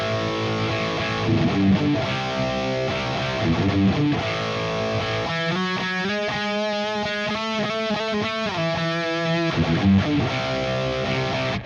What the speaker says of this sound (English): that variation that you hear him throw in the next time sounds like this